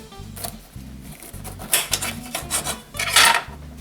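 Fresh limes for a key lime pie, pressed by hand in a kitchen: rhythmic squeaks and grinding rasps repeat in short, regular strokes, close and fairly quiet, with sharper scraping clatter at moments.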